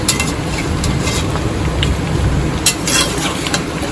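Chicken kosha being stir-fried in a pan sizzles loudly and steadily, with intermittent scraping strokes of a spatula against the metal and no voices.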